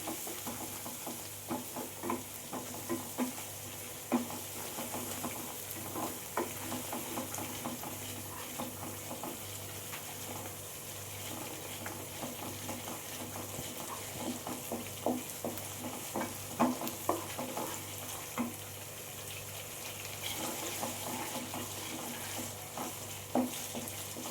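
Tomato being sautéed with spices in a pan for chana masala, a soft steady sizzle with frequent stirring scrapes and spatula clicks, close and fairly quiet throughout.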